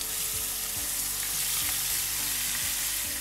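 Chicken pieces for humba hit a hot pan with a steady, loud sizzle and crackle, stirred with a few soft scrapes throughout.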